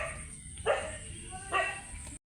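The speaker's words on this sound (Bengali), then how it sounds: "বাড়িতে আবার একটা কুকুর আছে, মানুষ আইলে শুধু গেউ গেউ গেউ গেউ করে।" A house dog in a village home gives two short, fairly faint barks about a second apart over a quiet background.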